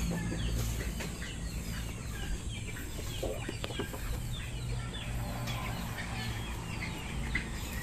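Rhode Island chickens clucking and calling in a backyard flock, soft scattered clucks and cackles at moderate distance over a quiet rural background.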